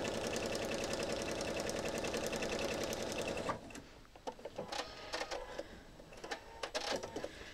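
Sewing machine stitching a quilt, a steady fast mechanical whir for about three and a half seconds that stops abruptly, followed by quieter scattered clicks and handling noises.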